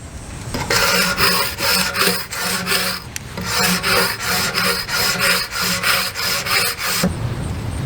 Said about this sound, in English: But before we do anything, I gotta scrape.